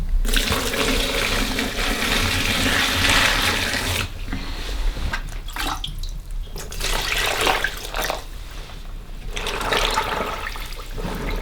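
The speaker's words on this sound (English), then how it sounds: "I'm gonna mix it with some of this hot water here" Hot water pours steadily into a bucket with a rushing, splashing sound, pausing and shifting in intensity partway through.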